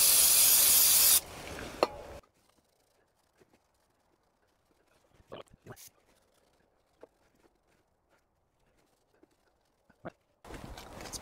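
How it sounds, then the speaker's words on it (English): Brake cleaner sprays onto an engine surface in a loud hissing burst of about a second, followed by quiet handling clicks and taps, then another short hissing spray at the end. "A little brake clean."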